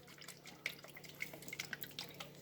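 Worcestershire sauce pours for meatloaf mix, giving a quick run of faint, close drips and small liquid splashes over a couple of seconds, with no talking.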